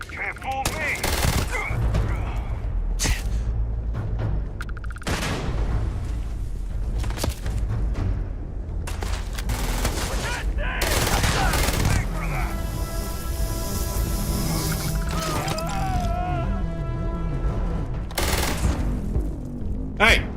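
Rapid bursts of gunfire from the video game Starfield crack and rattle in a tense firefight, with close, loud volleys and booming shots repeating across the stretch, mixed with other game effects.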